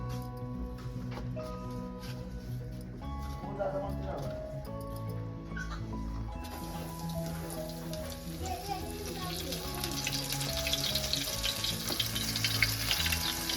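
Bombil (Bombay duck) pieces coated in rice flour frying in hot oil on a tava, a steady crackling sizzle running under people talking and other background sound, with a dog whimpering at moments.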